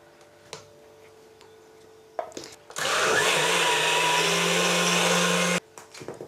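An electric mixer beats chocolate cake batter in a home kitchen, starting with a short rev and then running loud and steady for about three seconds before stopping abruptly, with quiet handling noises before and after.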